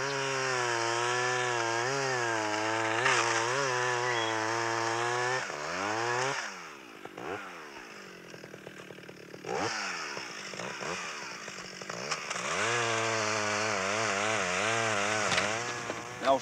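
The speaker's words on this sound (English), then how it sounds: "You should never carry a saw with a motor going." A chainsaw engine running close by, revving up and down with a buzzing, sputtering roar that dips briefly to a rough idle before climbing again.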